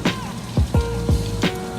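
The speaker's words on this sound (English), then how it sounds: "It's a rainy day." Rain falls steadily on a rainy day, with a close, continuous patter broken by several distinct, heavier drips landing nearby. No one speaks.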